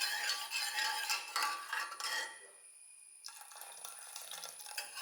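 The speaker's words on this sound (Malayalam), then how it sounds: "വെള്ളമൊക്കെ ഒഴിച്ച്" Water pours and splashes into soaked dal in a pressure cooker, a bright continuous gush that stops abruptly, followed by softer clinks and trickling.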